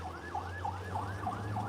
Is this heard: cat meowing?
no